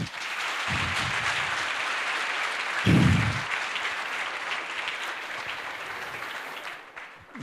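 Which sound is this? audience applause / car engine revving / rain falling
audience applause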